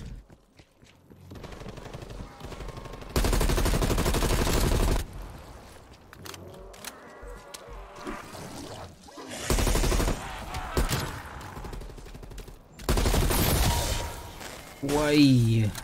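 Repeated loud bursts of automatic gunfire in Call of Duty Cold War Zombies, several sustained volleys separated by quieter stretches where a player talks, with a final short burst near the end.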